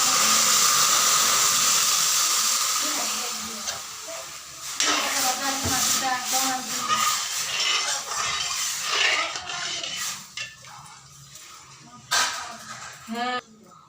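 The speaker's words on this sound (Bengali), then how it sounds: "ডালগুলো ভাজা হয়ে গেছে, আমি জল দিয়ে দিচ্ছি।" Water poured onto fried lentils in a hot pan, a loud hiss of steam at first that breaks into bubbling and spitting crackles, fading and flaring again, with talking over it.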